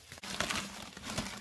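Plastic bags that once held morel mushrooms are crinkled and handled up close, with a steady rustle and a few sharper crackles.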